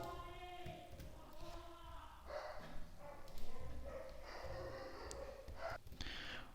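A pet dog indoors gives a few faint, scattered barks and yips, heard alone at low volume.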